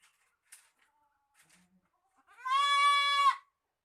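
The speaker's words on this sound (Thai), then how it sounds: "ตอนนี้ แพะทุกตัวในคอก็หายหมดแล้ว" A goat in a farm pen gives one loud, close bleat of about a second, with a wavering, harmonic tone. It follows a stretch of near-silence broken by a few faint, scattered noises.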